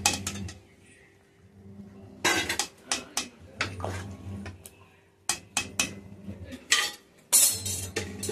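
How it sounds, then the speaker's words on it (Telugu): Cooked dal (lentils) for sambar is mashed inside a pressure cooker pot, giving irregular metallic clinks and scrapes of a utensil against the pot, in short clusters separated by quiet gaps. "కుక్కర్లో వేసిన పప్పుని ఇలా మెత్తగా మెదపాలి"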